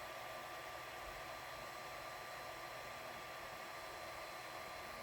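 An Ender 3 V2 3D printer running a print gives a steady, faint whirring hiss of fans and motors, constant and unbroken with no voices.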